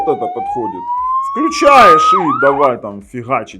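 A police siren plays from a rugged Tank 4 Pro smartphone speaker, a rising wail sweeping upward, while someone talks over it and keeps talking after it fades.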